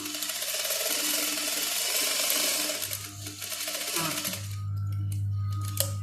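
A sewing machine stitching elastic into a pillow-cover-like fabric piece for a bib, running in a steady mechanical whir that pauses briefly and resumes, with ratcheting clicks close up.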